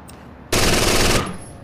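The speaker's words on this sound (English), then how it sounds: "Why is the rate of fire so like high?" A loud burst of rapid automatic gunfire in Rainbow Six Vegas 2 lasts about two thirds of a second and then cuts off abruptly, leaving a fading echo.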